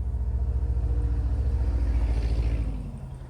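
Truck passing by outside, a deep steady pulsing rumble that holds loud for a few seconds, then fades as it moves away.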